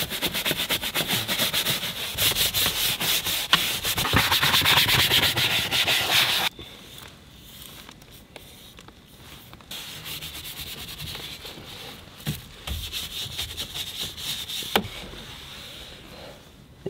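Dirty leather car seats are scrubbed with a brush: a loud, steady scratchy rubbing for the first few seconds, then quieter, intermittent brush strokes.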